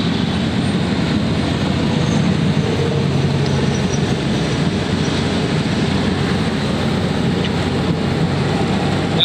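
A 10,000-watt diesel generator on a 2007 Holiday Rambler Imperial RV runs steadily, giving a constant, close, even engine drone with no voices.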